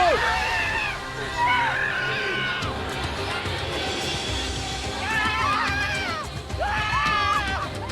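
A reality-show contestant screams and whoops in celebration after winning a comfort challenge, rising in repeated excited bursts over a noisy outdoor crowd and cheering voices.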